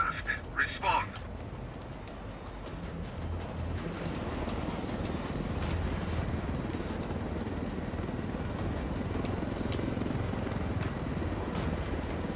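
A helicopter flies in the Ghost Recon Wildlands video game, its rotor drone building into a steady, close rumble after a few brief sharp sounds at the start.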